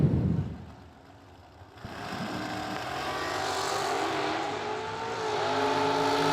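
A dragster and a Corvette launch side by side in a drag race, a brief rumble dipping before engines rise into a loud, sustained roar with climbing revs as the cars pull away into the distance.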